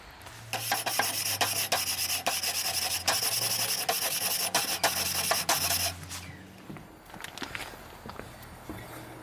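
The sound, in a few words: scraping carbon off grill grates with a tool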